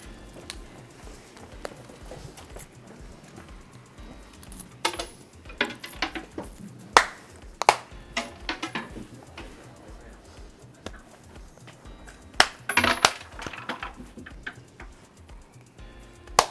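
Small coins dropping and clinking as an offering at a Japanese shrine in Nagatoro, scattered light metallic taps and jingles spread over a quiet outdoor stretch, with a few louder clusters near the middle and later.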